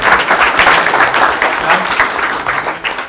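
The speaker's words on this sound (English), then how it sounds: "Big round of applause." Audience applause rings out at a Bharitya Vitta Salahkar Samiti session during a memento presentation, loud, sustained clapping from a crowd filling the whole stretch without a break.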